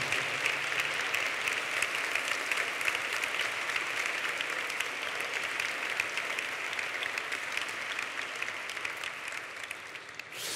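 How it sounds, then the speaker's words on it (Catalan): Steady, dense applause from a graduation ceremony audience fills the hall, holding an even level throughout without pause or spoken voices. "vosaltres us atorgueu un aplaudiment a vosaltres mateixos"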